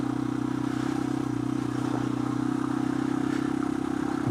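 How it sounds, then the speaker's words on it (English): A motorcycle on an early-spring ride, its engine holding a steady, loud, continuous drone close to the rider, with some clatter and road noise running underneath and no talking. "I'm still gobsmacked about how easy this bike makes everything"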